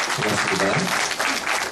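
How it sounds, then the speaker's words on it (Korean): A book-concert crowd in Gwangju bursts into loud, close, continuous applause for a farmer guest, with a voice speaking briefly over the clapping. "여러분 뜨거운 박수를 많이 주시길 바라고요."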